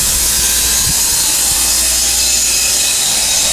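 Steady grinding, sawing noise from power tools at street construction in Seoul, loud and continuous, with no voices.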